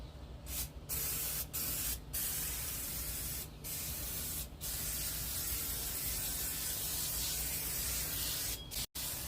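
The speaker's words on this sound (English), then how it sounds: "we're also going to spray down the tray and just let that sit as well" A steady, continuous spray of cleaner onto a grill tray hisses close by, broken by a few brief pauses and ending with a short cutoff near the end.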